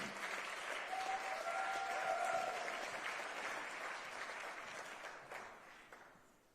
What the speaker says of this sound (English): Let's give the bishop another round of applause